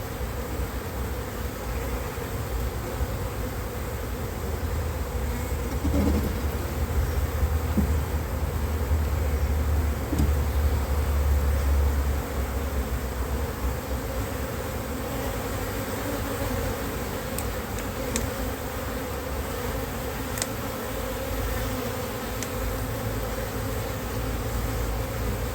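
A dense, steady drone of honeybees swarms over a brood frame with newly emerging bees, loud and close throughout with no talking.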